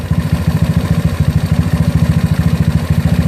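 A GY6 scooter engine idles steadily during carburetor tuning with an OKO PWK 30mm carb, its fast even pulsing chug loud and close with no talking.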